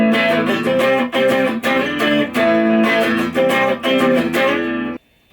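A Silvertone 26931 electric guitar played with both pickups switched on rings out in loud strummed chords with a slightly driven tone, steady rhythmic strokes for about five seconds before cutting to silence.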